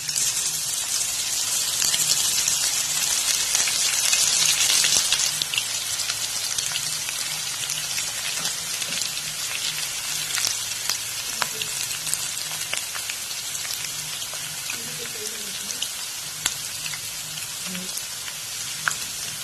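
Banana flower fritters dropped into hot oil, a dense crackling sizzle like rain that swells loudest early and then settles into steady close bubbling, with brief faint speech near the end.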